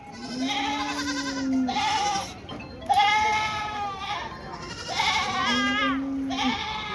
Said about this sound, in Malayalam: ഒരു ബീറ്റൽ ക്രോസിൽ വന്നൊരാട്,